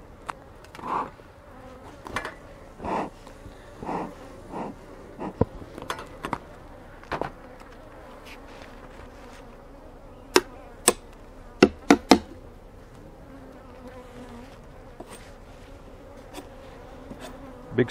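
Honey bees buzz around an open beehive during a hive check outdoors in the heat, a steady insect drone with several close passes, broken by sharp clicks and knocks from the hive equipment.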